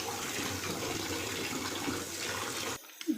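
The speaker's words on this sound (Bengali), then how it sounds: "ধুচ্ছি ভালো করে, একটা একটা পাতা।" Spinach leaves are washed one by one under a running tap, a steady close splash of water lasting nearly three seconds before cutting off, followed by a brief soft clatter.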